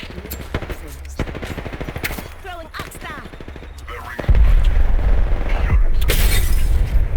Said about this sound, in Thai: มีคนยิงขวา